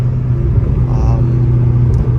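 A catless Dodge Charger Scat Pack engine heard from inside while driving, a loud, steady low rumble and drone that holds throughout.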